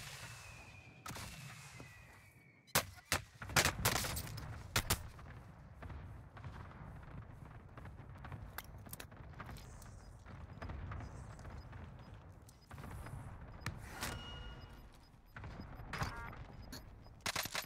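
Airstrike in Call of Duty Warzone: a few sharp, loud explosive bursts land in quick succession, followed by scattered fainter thuds and crackles over a steady low rumble of distant battle.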